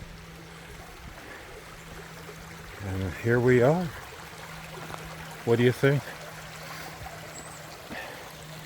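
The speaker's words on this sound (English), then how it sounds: "be near the year-round flowing creek" A year-round flowing creek gives a steady, soft outdoor wash of running water throughout, with someone speaking briefly over it twice.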